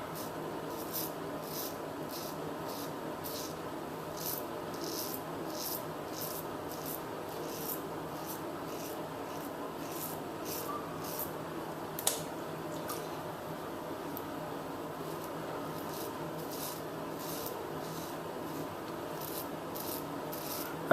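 Merkur 23c safety razor cutting stubble while shaving a face, a steady series of short rasping scrapes repeating in even strokes, close and fairly quiet.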